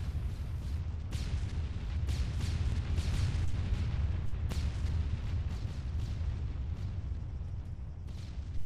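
Repeated booming explosions and gunfire-like bursts in an Arma III combat mission in a village, dense and continuous over a rumbling low background, with sharp impacts scattered throughout and no talking.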